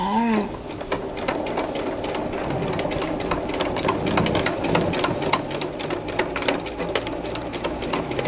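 A sewing machine runs a short securing seam across a fabric flap, giving a fast continuous stitching clatter up close, with a brief voice at the start and light room noise beneath.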